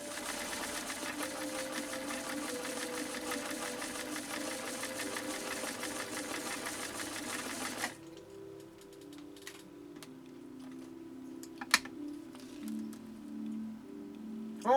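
A 1972 Kenmore 1318 sewing machine stitching through two layers of elk hide, running in a fast, steady mechanical whir for about eight seconds before stopping, followed by quiet clicks and handling sounds.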